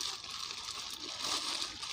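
Water sloshing inside a container holding a pink guava cutting, a steady, close, moderately loud watery wash that continues without a break and with no one talking.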